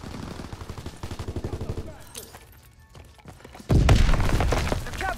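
Volk rifle firing in Call of Duty WWII Resistance DLC, rapid automatic bursts up close, a pause with scattered shots, then a loud dense barrage of gunfire and impacts.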